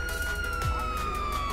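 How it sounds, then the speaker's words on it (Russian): Police car siren in the video game GTA 5, a steady wailing tone that holds close and loud through the short stretch, with no talking. "Включаем сирены и вперед"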